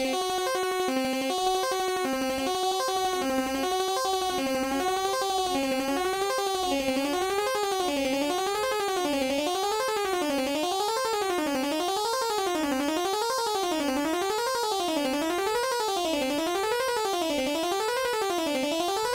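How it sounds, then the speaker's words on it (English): A continuous electronic diatonic scale runs up and down in steady waves, morphing through different tunings, its pitches gradually bending and warping until the steps blur into a wobbling, insect-like sweep. "just going through these diatonic scales and morphing them through different tunings"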